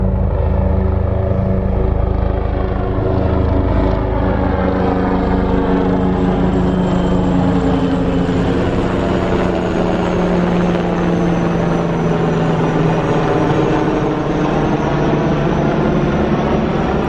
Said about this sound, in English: Apache helicopters. Apache helicopters.